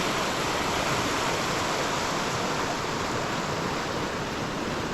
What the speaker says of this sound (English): Take a look at this river, how beautiful it is down here.